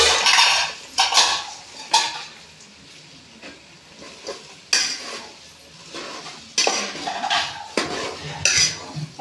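Meat is stirred into a beef pickle mix in a metal pot, with repeated scraping and clattering strokes of a spoon against the pan, loud and close, arriving in irregular bursts with quieter gaps between them.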